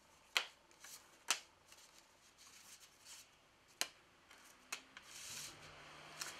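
A deck of playing cards riffled and shuffled during a card trick, several crisp snapping bursts spaced apart, close and fairly quiet with soft rustling between them.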